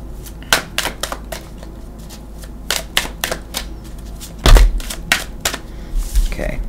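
Tarot cards being shuffled, a series of sharp riffling snaps and clicks in short irregular bursts, close by, with a voice speaking briefly near the end.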